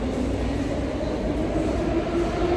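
Steady rumble of a metro train ride heard from inside the carriage, a continuous droning roar with a faint whine and no pauses, close and unbroken.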